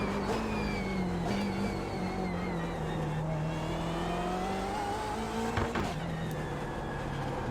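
A BMW M8 race car in the iRacing simulator holds a steady, loud engine drone through the clip, pitch rising and falling with throttle and a brief gear-change dip near the end.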